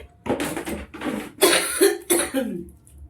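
A run of harsh, close coughs, about five or six bursts in a row with short gaps between them, loud and uninterrupted by talk.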